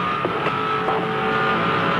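Race car engine at high revs on track, accelerating hard with a quick upshift into sixth gear on a tailwind, loud and close throughout.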